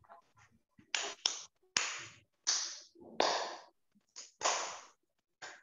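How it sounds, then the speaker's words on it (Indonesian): Children at Sunday school clap along to a worship song, a handful of sharp, separate claps spaced roughly half a second to a second apart with short gaps of silence between them, fairly close and without any singing heard. "Yang pemalas tepuk tangan harus tepuk tangan."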